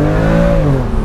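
Heard from inside a BMW M2 Competition driving at night, the engine pulls hard under acceleration, a loud, steady drone that rises and then eases briefly.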